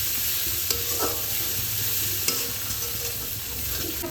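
A paste of ginger, garlic, green chili and cumin sautés in hot oil with spices, a loud continuous sizzle with a few sharp clinks of a spoon stirring against the pan, no talking.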